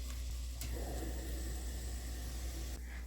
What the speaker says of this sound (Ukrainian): Обсмажую цибулю на невеликій кількості олії.